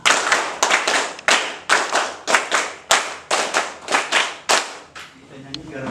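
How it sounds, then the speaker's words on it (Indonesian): Three rounds of the Tepuk Pancasila rhythmic clap by a standing group, a long run of loud unison claps in repeating patterned bursts that stops near the end, leaving faint voices and room noise. "3 kali tepuk Pancasila"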